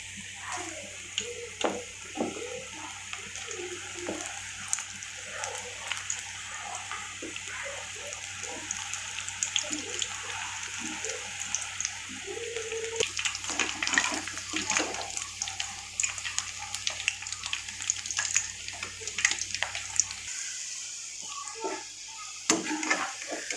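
Sweet corn pakoda batter frying in hot oil, a steady close crackle and sizzle with small bubbling pops that swells busier partway through, with no talking.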